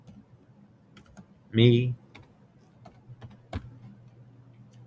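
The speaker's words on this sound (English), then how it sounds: "So I'm going to type in all about me, all about" Typing on a computer keyboard, a few soft, sparse clicks spread across the moment, faint and close, with a brief spoken word partway through.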